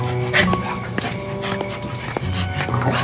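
Within a Romanian animated fairy tale about Halloween, a dog barks and yips several times amid busy background sound and voices, the barks short and fairly near.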